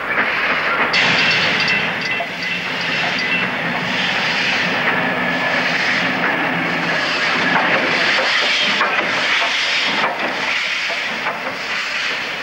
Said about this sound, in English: Here, Pendennis crosses light engine over the Fremantle Bridge to the Leighton Yards.